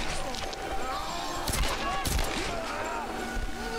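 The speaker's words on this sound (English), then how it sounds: "it's time for a bit of fun upside down shooting" Rapid gunfire and impacts ring out while shooting upside down in the Tomb Raider video game, with repeated sharp bangs and crashes over a dense, busy game soundscape at steady loudness.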